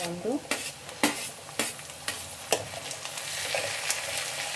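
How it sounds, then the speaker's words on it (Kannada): Golden-browned onions and freshly added tomato fry in a pan for tamarind rice, with a close, steady sizzle punctuated by several sharp spoon knocks against the pan as it is stirred. "ಟೊಮೆಟೊ ಚೆನ್ನಾಗಿ ಸಾಫ್ಟ್ ಆಗೋವರೆಗೂ ಫ್ರೈ ಮಾಡ್ಕೊಳ್ಳಿ."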